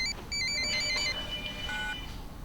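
A phone rings with short repeated electronic chirping tones, a quick warbling pattern, fairly near and clear, with no voices.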